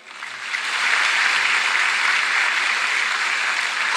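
An audience claps together at a religious gathering, steady dense applause rising within the first half second and holding loud and even to the end, with no talk over it.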